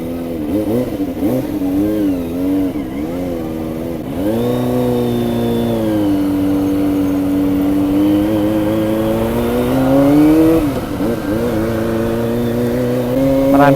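A Kawasaki ZX25r inline-four motorcycle revs through city streets, its high-pitched engine note climbing and dropping repeatedly as it upshifts, loud and close throughout with no talk.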